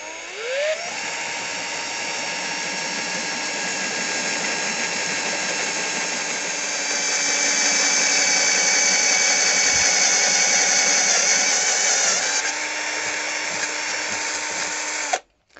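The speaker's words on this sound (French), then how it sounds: "moi j'ai plutôt une visseuse là qu'une perceuse." A cordless screwdriver drives screws into a van's metal floor to fix a bed in place, giving a loud, close, steady high whine for about fifteen seconds with slight pitch shifts as the motor loads.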